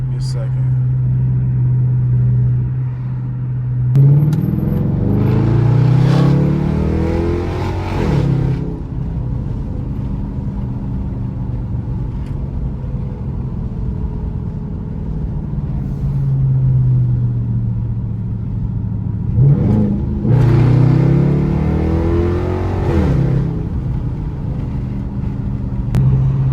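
A car fitted with a new aftermarket exhaust idles with a low, steady burble, then revs hard twice in loud, close bursts, each dropping back into the rumbling idle.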